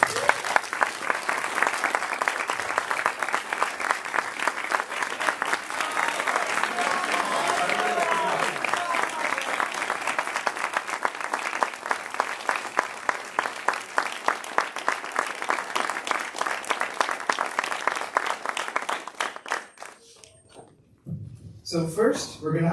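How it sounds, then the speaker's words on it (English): A campus audience at a Hindu YUVA event at UC Berkeley gives a long, loud round of rhythmic clapping, sustained for about twenty seconds before it abruptly dies away. "let's welcome JSI Deepak onto the stage with a big round of applause"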